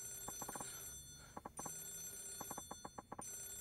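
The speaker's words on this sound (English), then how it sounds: "could you get the phone?" A telephone rings in the video game Yakuza 0, with sharp, near bursts of bell trills in two clear groups separated by short pauses. There is no talk over the ringing.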